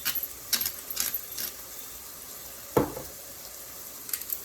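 Ground beef for chili cooks down in a pot with a soft, steady sizzle, broken by a few sharp scraping stirs and clanks spread across the stretch.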